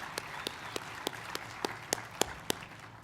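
Audience applause at a University of Georgia celebration event, with sharp claps standing out in a steady rhythm over a soft, diffuse crowd background.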